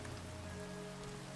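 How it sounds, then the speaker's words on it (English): Steady rain falls in the Minecraft video game, a continuous even patter with a faint tonal hum underneath, filling the whole moment without any voices. "It is constantly raining in here."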